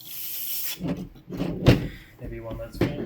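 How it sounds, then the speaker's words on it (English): A short burst of carb cleaner hisses onto the carburetor of a 2007 Suzuki S40, then gives way to talk and light clunks of handling. "I'm gonna spray it down with a carb cleaner and see if that loosens it."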